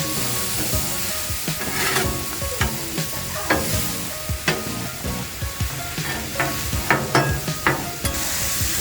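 Sausage fries on a Blackstone griddle in fresh oil, a steady close sizzle broken by repeated scraping and stirring taps from a spatula, with no talking.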